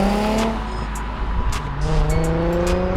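A Nissan 350Z drives along with a steady engine drone and shifting harmonic tones as it accelerates, close and continuous, with brief higher noise bursts over the road rumble.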